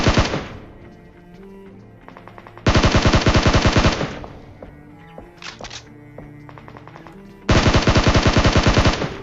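Bursts of automatic gunfire in a shooter video game, loud and close, with long rattling volleys at the start, around three to four seconds and near the end, and sparser shots and thuds in between.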